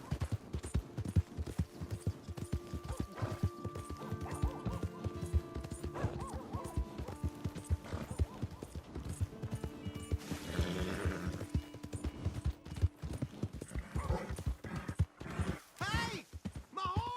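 A horse whinnies and its hooves clop in the Red Dead Redemption 2 video game, set among other in-game noises and a voice speaking now and then.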